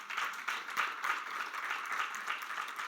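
Church congregation applause during a Spanish-language sermon, a moderate, somewhat distant patter of many hands clapping steadily for a few seconds.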